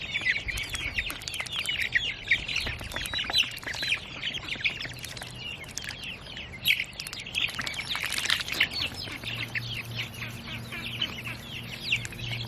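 Young ducklings peeping and quacking continuously in a busy chorus of high, rapid chirps close by, with a low steady hum joining the background near the end.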